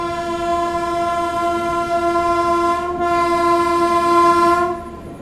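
The 12861 Visakhapatnam–Mahbubnagar Superfast Express leaves Visakhapatnam railway station, its horn blaring in one long, loud chord, briefly dipping once before cutting off near the end, with rumbling train noise beneath.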